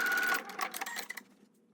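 Sewing machine running to understitch fabric beside a dress strap on a shirred spring dress, a short loud mechanical whir that slows and fades to a stop, no talking.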